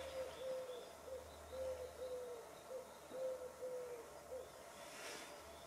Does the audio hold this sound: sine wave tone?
no